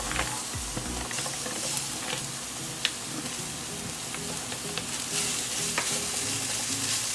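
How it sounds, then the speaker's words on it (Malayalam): Sliced onions sautéing in hot coconut oil in a pan for a Kerala pork dry fry, a dense, steady sizzle with a spoon stirring and scraping throughout, close and continuous, no voices. "പാൻ ചൂടായി കഴിയുമ്പോൾ എണ്ണ ഒഴിച്ച് ഈ ഉള്ളി നല്ലപോലെ വഴറ്റിയെടുക്കുക."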